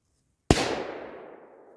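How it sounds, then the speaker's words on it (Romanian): A Dom Bombini firecracker with a green-flame fuse explodes in a single sharp, loud bang after near silence, followed by a fading outdoor echo. "E faină petarda în sine pentru că are fitilul la verde care e interesant"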